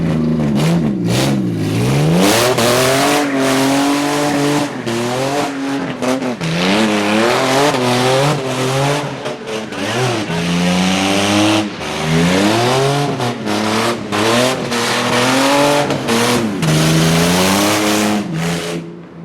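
A LeMons race car engine with a bad clutch revs and strains loudly and close, pitch rising and falling through repeated accelerations and gear changes, with occasional tire squeal.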